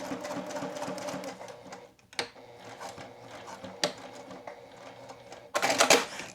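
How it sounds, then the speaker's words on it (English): Sewing machine stitching a zipper, a fast steady mechanical whir with short pauses and clicks between runs, ending in a louder burst of stitching. "So I'll just do a couple stitches, back stitch, and then just hold it up to kind of help maneuver it through the machine."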